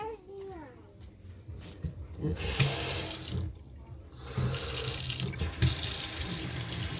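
Water runs steadily from a washbasin tap into a basin, rising and falling in bursts, with a voice and other chatter faintly underneath.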